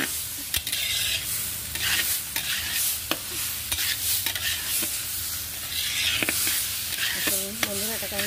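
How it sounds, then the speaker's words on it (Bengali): Rice with ginger paste fries in a pan with a steady sizzle, while a spoon scrapes and stirs in repeated clattering strokes; a brief voice hums near the end. "একটুখানি আদা বাটা দিয়ে দিলাম, দিয়ে আবার ভালো করে আমি এটা একটু ভেজে নেব"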